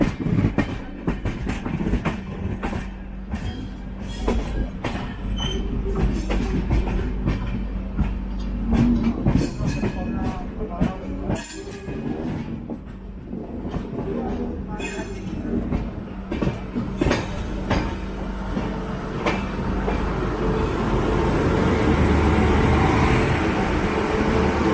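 A 16301 Venad Express passenger train pulling into Kottayam station in India, with steady rumbling rail noise and wheel clatter throughout, growing louder and denser toward the end as the carriages roll in.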